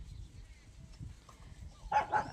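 A dog gives a couple of short barks near the end, following a stretch of quiet low rumbling background.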